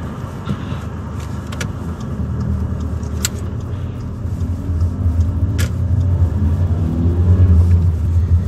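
A car pulling away to rejoin traffic during a mock driving test near Thornbury, heard from inside as a steady engine rumble that swells as it accelerates.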